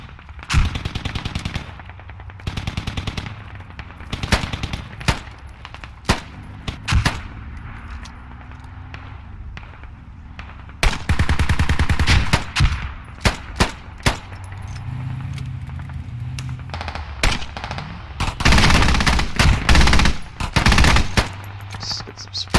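Shooter video game firefight, with bursts of automatic gunfire arriving in irregular clusters. Loud volleys and single shots alternate with quieter stretches, and some exchanges sound close while others are more distant, all with no talking.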